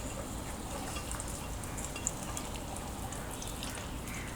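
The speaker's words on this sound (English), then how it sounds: "I'm gonna fry the onion until it's light golden" Onions fry in oil in a pan for a chicken do pyaza curry, producing a soft, steady sizzle and crackle with faint stirring, low in level and continuous, with no voices.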